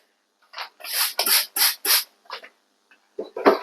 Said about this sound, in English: Spray the inside of the tent,